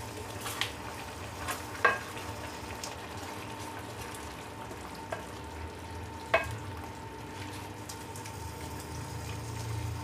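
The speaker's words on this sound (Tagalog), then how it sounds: "Hayaan muna natin siyang kumulo." Pork and chicken adobo with white vinegar simmers in a pot, a quiet steady bubbling hiss with a few faint clinks and small pops scattered through.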